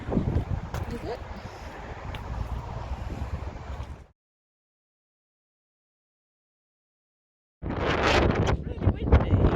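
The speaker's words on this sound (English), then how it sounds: "Really windy." Strong outdoor wind buffets the microphone in a loud, rough roar beside a truck, cutting out completely for a few seconds before gusting back in, with a person speaking intermittently.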